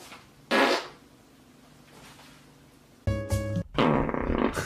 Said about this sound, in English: And I've got my freaking fart.